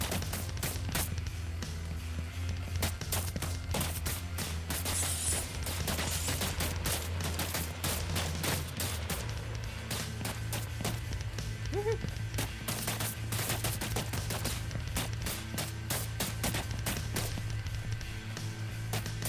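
Rapid bursts of enemy gunfire from a third-person shooter video game, dense sharp cracks clustered in volleys over a steady low ambient drone, continuing throughout with no pauses.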